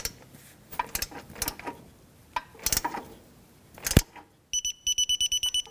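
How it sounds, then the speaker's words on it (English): A torque wrench set to 13 foot-pounds tightens an ABS wheel speed sensor bolt on a 2007-2017 Jeep Patriot 2.4L, giving a few sharp, close ratcheting clicks, then a quick run of bright electronic beeps. "Let's get our torque wrench."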